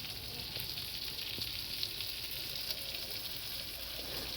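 Spice paste sautéing in a wok for a spinach and fish curry, a steady soft sizzle with faint occasional stirring scrapes, fairly quiet, no voices.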